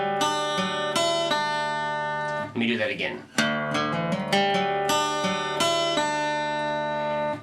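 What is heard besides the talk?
acoustic guitar bass notes and lead part, DADGAD tuning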